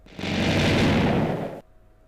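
A single loud explosion in the block-building video game Minetest, a sustained booming blast lasting over a second that cuts off abruptly into near silence with a faint lingering tone.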